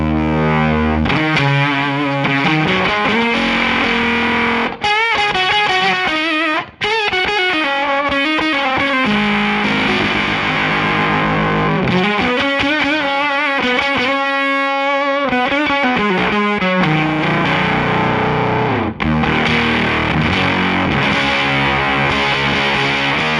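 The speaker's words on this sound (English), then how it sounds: "which is the Electro Harmonix Octavix." Loud, heavily distorted electric guitar from a 1991 Korean-made Squier Stratocaster run through an Electro Harmonix Octavix octave fuzz pedal, playing continuous chords and riffs with a thick, buzzing tone and brief gaps.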